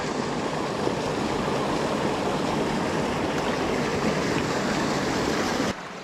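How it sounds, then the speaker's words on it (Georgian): A small mountain stream rushes and burbles steadily and fairly close, a dense continuous wash of water with no voices, dropping slightly just before the end. "ესეთი პატარა ღელე."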